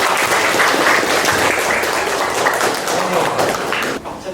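A history class claps for a student who answered correctly, the applause loud, dense and continuous from near by, tapering slightly at the very end.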